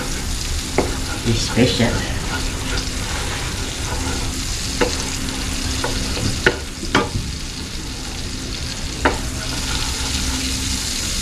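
Ingredients stir-fry in margarine in a pan, a loud steady sizzle with scraping stirring clicks throughout; a person speaks briefly.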